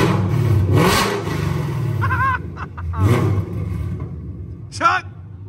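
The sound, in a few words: Coyote V8 car revving through custom race exhaust dumps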